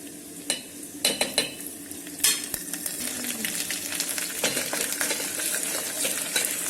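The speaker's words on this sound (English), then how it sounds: "so that the onions are fried properly, I'm going to add some ginger garlic paste to it" Onions with ginger garlic paste fry inside an electric kettle, a continuous sizzle punctuated early by several sharp metallic clinks of a spoon stirring, then settling into steady crackling.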